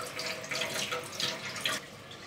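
Water running from a tap onto a small face-wash sponge, a steady close splashing stream with slight fluctuations, moderately loud and without any voices.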